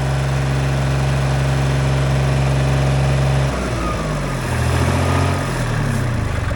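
A Ford tractor's little three-cylinder diesel engine drones loudly at high revs close by, then drops off and settles into a lower, uneven running note.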